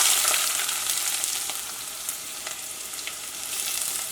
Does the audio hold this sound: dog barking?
no